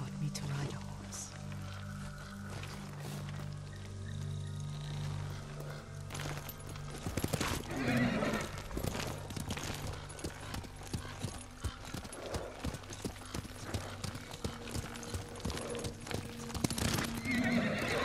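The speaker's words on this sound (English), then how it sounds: "Lord Sakai taught me to ride a horse." A horse in the Ghost of Tsushima video game gallops with steady clip-clop hoofbeats and neighs loudly, under game music, with voices talking over it.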